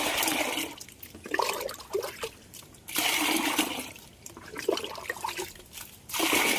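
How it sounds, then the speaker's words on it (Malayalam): Three cups of water are poured in three separate splashing bursts, each a few seconds long, with quieter pauses between them, while planting Red Lady papaya. "മൂന്ന് കപ്പ് വെള്ളം ഇതിലേക്ക് ഒഴിച്ച്"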